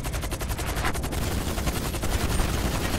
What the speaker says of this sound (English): I'll only put you down if you stop shooting at me.